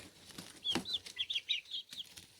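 Barred Rock and Rhode Island Red chickens clucking nearby, a string of short soft clucks and chirps in quick succession over quiet background.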